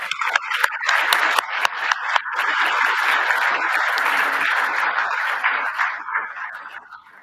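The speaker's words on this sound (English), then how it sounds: "please once again join me in applauding them" Conference audience applauding the speakers at the close of a session on gender equality and dual careers in sport, loud sustained clapping from a large crowd that swells, holds steady, then tapers off toward the end.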